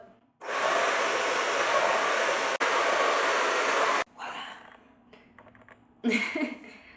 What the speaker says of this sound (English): But I have my diffuser and I'm ready to go, so here we go.